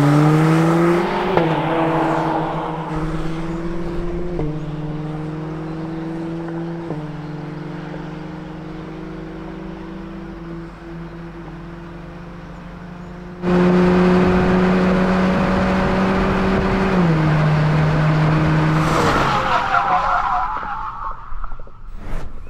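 A Cadillac CT4-V performance sedan launches at full throttle in race mode, its engine holding a loud steady drone, rising in pitch through gear changes, with tire skidding and a surge near the end.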